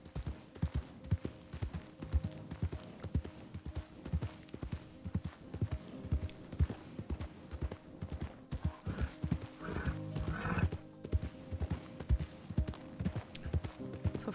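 Horse hooves clip-clop steadily and close in Red Dead Redemption 2 (RedM roleplay), with occasional neighs and whinnies breaking through the continuous trotting rhythm.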